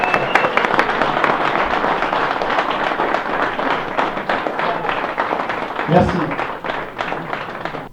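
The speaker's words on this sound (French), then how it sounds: "j'aimerais que vous leur fassiez un tonnerre d'applaudissements" An audience at a fishing trophy ceremony in Saint Cassien breaks into sustained, loud applause that holds steady throughout, with a brief word spoken over it near the end.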